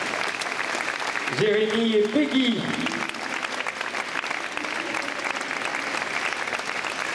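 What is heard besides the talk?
audience applause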